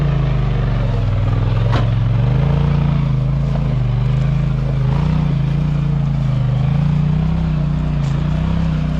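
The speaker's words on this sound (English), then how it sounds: "I decided to get out and get a little exterior view of Paul riding up along this area" An ATV or UTV engine drones steadily as the machine climbs a rocky trail at the AOAA park in Coal Township, Pennsylvania, a loud continuous rumble with slight shifts in pitch and occasional knocks from the terrain.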